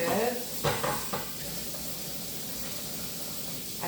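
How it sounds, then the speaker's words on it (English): Dishes are washed in a kitchen sink under a steady hiss of running water, with a few clinks and clatters early on and no talking. "So I'm gonna wash these dishes."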